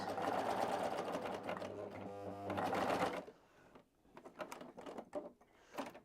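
A sewing machine stitches Christmas pajamas in a steady whirring run for about three seconds, then stops, leaving quieter handling sounds and soft clicks close by.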